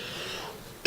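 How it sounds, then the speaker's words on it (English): A single sharp, loud cough bursts out close to the microphone at the very end, after quiet background hum. "I got a cough."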